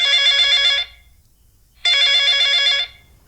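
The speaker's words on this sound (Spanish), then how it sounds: "Mi teléfono estaba sonando." A phone ringtone sounds loudly in two long electronic bursts separated by a second of silence.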